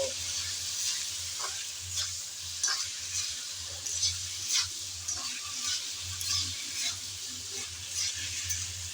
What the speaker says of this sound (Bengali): লবণ আর হলুদ দিয়ে নেড়ে চেড়ে ভালোভাবে ভেজে নেব।